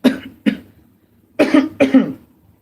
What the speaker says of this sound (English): I have a little bit of a cough.